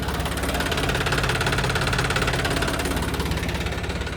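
A John Deere tractor engine idles close by with a steady, rhythmic diesel chug and knocking throb, constant and loud throughout with no voices.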